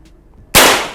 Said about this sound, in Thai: นัดแรกจะยิงที่ขวดนะครับ ขวดน้ำก่อน